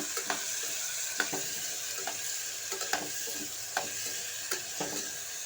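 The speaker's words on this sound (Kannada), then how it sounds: "ಇದೆಲ್ಲ ಫ್ರೈ ಆದಮೇಲೆ ಹೆಚ್ಚಿಟ್ಟಿರೋಂಥ ತರಕಾರಿನ ಸೇರಿಸ್ಕೊಳ್ತಾ ಇದ್ದೀನಿ. ಇದನ್ನು ಚೆನ್ನಾಗಿ ಎಣ್ಣೆನಲ್ಲೇ ಫ್ರೈ ಮಾಡ್ಕೋಬೇಕು." Chopped vegetables sizzle in hot oil in a pan for vegetable pulao, with a steady fry hiss and regular scraping clinks from a spoon stirring them.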